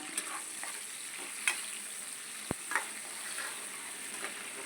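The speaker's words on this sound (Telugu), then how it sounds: "నూనె కాలిన తర్వాత ఉల్లిగడ్డలు పచ్చిమిర్చి వేసి వేగనిద్దాం" Onions and green chillies fry in hot oil with a steady, soft sizzle, broken by a few faint stirring clinks and a sharp tap near the middle.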